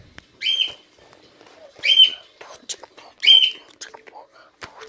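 A bird gives three clear whistled calls at even intervals of about a second and a half, loud and close, with faint scattered chirps and small sounds between them.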